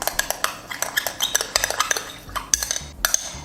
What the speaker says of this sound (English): I'm going to add coffee to that, and then I will stir it properly